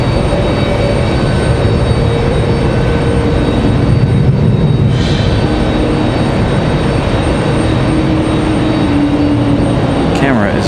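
An ATR turboprop airliner arriving at Raleigh-Durham airport from Wilmington in stormy weather, heard as a loud, continuous broadband roar that holds steady throughout, with a faint whine near the end.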